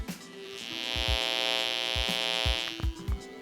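A low, thick buzzing tone from a passive buzzer driven by an Arduino drones steadily for a few seconds, with faint clicks and thumps underneath.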